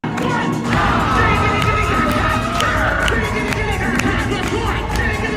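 Adults cheering and shouting loudly at a drag performance event, a dense, continuous crowd roar with whoops and scattered voices throughout.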